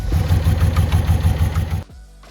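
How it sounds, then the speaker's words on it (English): Carbureted classic Porsche engine revving up as the passenger-side accelerator pump squirts fuel, a loud, steady pulsing roar for nearly two seconds before dropping abruptly to a lower idle. "On the passenger side it makes the engine rev up."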